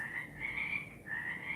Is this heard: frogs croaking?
yes